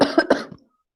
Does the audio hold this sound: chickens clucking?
no